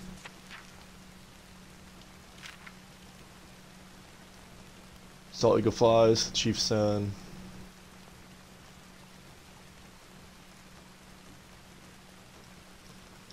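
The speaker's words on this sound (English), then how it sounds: "It's still raining." Steady soft rain in Red Dead Redemption, a constant hiss running the whole time while someone speaks briefly in the middle.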